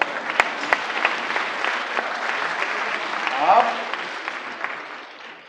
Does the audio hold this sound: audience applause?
yes